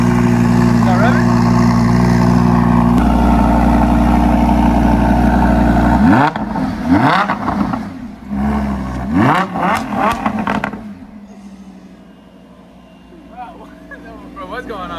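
A Lamborghini engine, not stock, drones loudly at idle, then revs in several sharp rising and falling bursts that pop and crackle before dropping back to a quieter idle, with excited voices talking over it.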